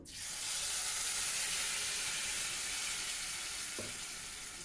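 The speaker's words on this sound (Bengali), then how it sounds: "এবার আমি তেলের মধ্যে তেজপাতা ফোড়ন দিয়ে দিয়েছি" Bay leaf tempering sizzles in hot oil, a loud broad hiss that bursts up at once and holds steady, easing slightly toward the end, with one brief low knock near the close; no voices.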